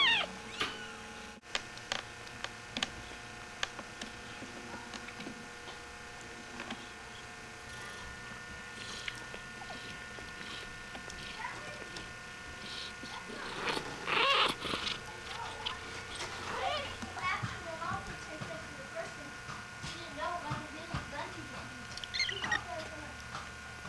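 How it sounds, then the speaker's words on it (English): Kittens in a litter of six give small, high meows on and off, scattered through a long stretch with soft handling noise and a brief voice. "This is the little kitties."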